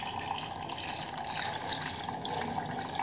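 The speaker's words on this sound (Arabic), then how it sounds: "هلا رح نضيف فوقها مية لحمة كمان" Meat broth being poured into a pot of red and white bean stew with bone-in meat, a steady liquid splash and gush running throughout at moderate, close level with no talk.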